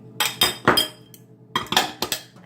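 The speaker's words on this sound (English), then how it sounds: "So I'm just going to dump everything in one bowl." Ingredients tipped into a single bowl for keto Southern-style oven-fried chicken, heard as two close bursts of clinking and knocking, with a pause between them and no talk.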